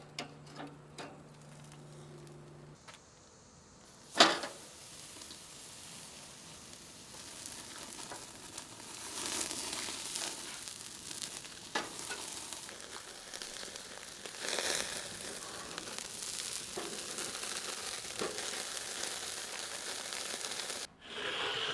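A large blue cheese steak sears on a hot grill, a faint, steady sizzle building after a sharp clunk, with light crackling and ticking and no voices.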